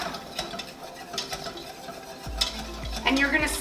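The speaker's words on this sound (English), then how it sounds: "I'm gonna start whisking that vigorously into the butter." A whisk scrapes and stirs flour vigorously into melted butter in a pan, making a roux for pastitsio; brisk, close metallic stirring runs throughout, growing louder and busier toward the end, with no talking.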